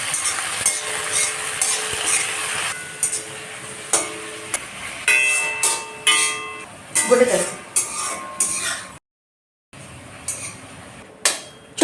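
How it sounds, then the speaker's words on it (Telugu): Finely cut gongura (sorrel) leaves fry slowly in a pan, a soft sizzle broken by repeated clinks and scrapes of a spoon stirring against the metal, close up, with a brief silent gap near the end. "గోగాకు అన్నమాట సన్నగా పెట్టి మెల్లగా వేగించేవాళ్ళం"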